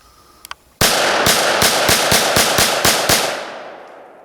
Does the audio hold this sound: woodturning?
no